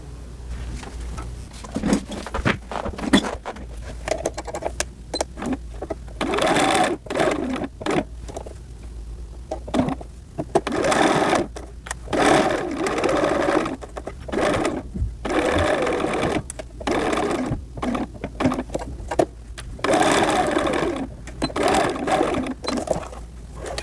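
A sewing machine stitches the collar piece of a lined doll coat in bursts of rapid, buzzing needle runs with short pauses between, close and steady.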